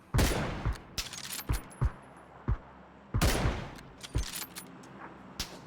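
Gunfire from other players in a video game crackles in several separate bursts and single shots over about six seconds, some sharp and close, others thinner and farther off, with no talk.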